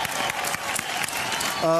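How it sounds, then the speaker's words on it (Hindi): Studio audience applause on a reality-show grand finale stage, brief and dense, with a host's voice and music overlapping as a tonal sting rises at the end. "सुदेश जी के लिए जोरदार तालियां"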